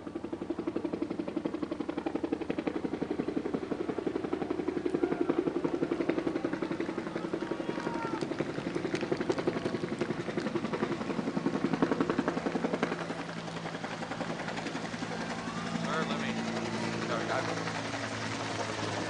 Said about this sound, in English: You know, that's an Army helicopter.